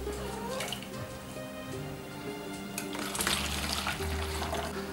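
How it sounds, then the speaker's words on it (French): Half a litre of water is poured through a very fine sieve into a container while making candied figs, a faint, steady trickle and patter with a brief louder splash partway through. "j'ai mis un tamis très fin sur mon récipient et je vais filtrer 500 g d'eau, à savoir un demi-litre."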